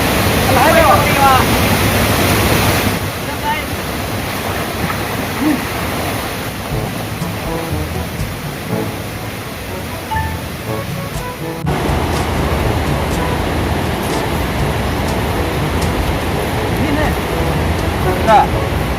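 A river flows with a steady, loud broadband rush that continues for the whole stretch and shifts slightly in texture partway through.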